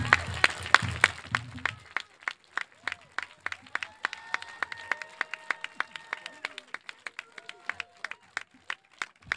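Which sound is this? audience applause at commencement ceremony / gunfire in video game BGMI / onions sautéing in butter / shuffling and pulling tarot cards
audience applause at commencement ceremony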